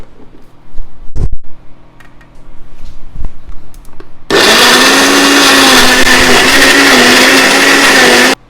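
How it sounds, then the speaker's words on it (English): A blender blending tomatoes starts abruptly after a few faint clinks and runs loud and steady for several seconds, whirring with a grinding motor tone before cutting off. "the last thing that I'm going to do is blend the tomatoes"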